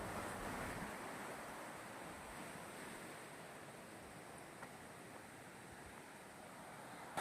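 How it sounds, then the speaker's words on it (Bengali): Water of the Jaldhaka river in North Bengal rushes down from the distant hills in a steady, unbroken broadband roar with no voices. "দূরে ওই পাহাড় থেকে জলটা প্রচণ্ড বেগে বয়ে আসছে"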